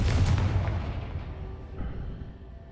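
A Confringo fire spell blasts in Hogwarts Legacy, a loud booming burst up front that rolls off into a rumbling, crackling decay over about three seconds, with no talking.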